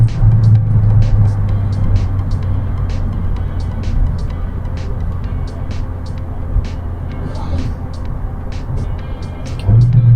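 A Volkswagen car with a DSG automatic gearbox accelerates hard in drive, its engine note loud and close, holding steady as it pulls through the gears with only brief dips at the shifts.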